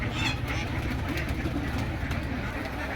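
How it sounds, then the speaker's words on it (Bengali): Foreign doves at a bird and pigeon farm cooing amid a dense, continuous background hum of other birds and ambient noise, the coos soft and blended rather than distinct. "এদিকে বিদেশি ঘুঘু আছে ঘুঘুকে খাবার দিচ্ছে দেখেন"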